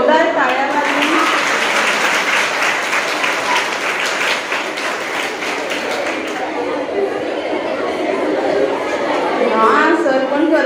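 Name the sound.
audience applause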